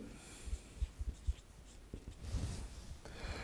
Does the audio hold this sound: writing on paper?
yes